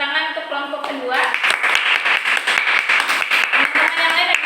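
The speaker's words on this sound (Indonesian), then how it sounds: "Beri tepuk tangan untuk kelompok kedua" A classroom of students gives a burst of applause for a student group, dense hand clapping starting about a second in after a teacher's voice and continuing steadily to the end, with voices mixed underneath.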